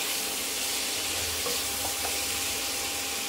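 Mixed vegetables, salted, fry and sizzle in a pan for pasta, a steady broadband hiss with faint stirring clicks throughout.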